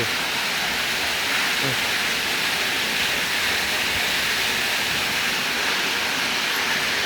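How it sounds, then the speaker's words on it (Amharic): Water pours down into a large water tank in a constant, rushing, hiss-like stream that stays steady and fairly loud throughout. "ውሃው ሲወርድ አያችሁ፣ በሁለት በኩል ነው የሚወርደው"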